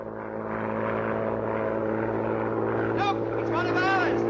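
A propeller aeroplane drones steadily overhead with a low, constant hum, while people talk over it.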